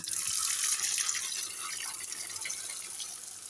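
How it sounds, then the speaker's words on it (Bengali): Running water splashes steadily in a home sink, loud at first and then easing slightly, with no voices over the hiss of the flow. "আমি জামা কাপড় ধুচ্ছি অনেক জমে তো হাতে ধোয়া যাবে না"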